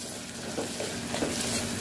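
Ginger garlic paste, green chilies and mint being sautéed in a pan for coconut milk rice produce a continuous close hiss of frying with soft scraping stirs and occasional spatters, with no talk.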